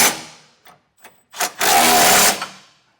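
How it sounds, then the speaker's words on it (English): A power tool drives a 3/4 inch socket to tighten bolts while a B&W Turnoverball underbed gooseneck trailer hitch is fitted to a 2025 Ford. A few short close blips are followed by one loud sustained burst that trails off. "And now I'm going to hit these four with a 3/4 inch socket."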